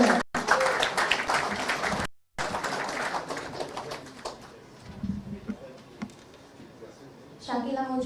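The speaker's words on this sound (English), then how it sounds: "Can we have a round of applause for her?" An audience at a Bangladesh-Canada friendship anniversary celebration claps during an honoring ceremony, brisk applause mixed with speech and crowd noise, briefly cut off, then thinning into murmurs before a voice returns.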